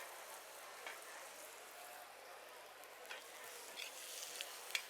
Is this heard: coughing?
no